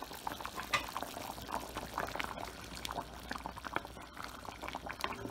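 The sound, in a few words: potato curry boiling in a covered pot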